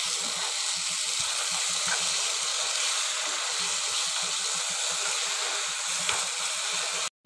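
Carrot, banana and wheat halva with cardamom sizzles steadily in a pan while being stirred, a continuous soft hiss with faint low scraping throughout, close and alone.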